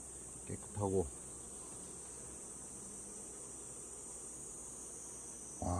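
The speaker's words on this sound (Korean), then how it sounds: "근데 거의 어린벌이에요, 야들." Young honeybees hum in a steady, even drone at the hive while frames are inspected. Brief voices break in near the start and again at the very end.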